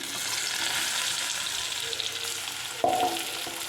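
Close, steady sizzle of onions frying in oil, with a brief metallic clink of utensils near the end.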